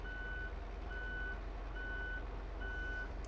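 Repeated reversing beeps from a vehicle pulling out, a steady series of evenly spaced tones over a continuous low engine rumble, fairly close and alone without talk.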